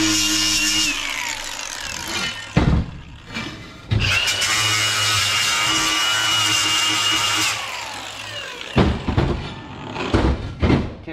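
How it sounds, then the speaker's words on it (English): An angle grinder cleaning paint off an old suspension part for a Suzuki Samurai build, with a steady high whine in long passes broken by sharp clunks and pauses. "I usually get the grinder, clean up the paint around the front of it and the back side of it"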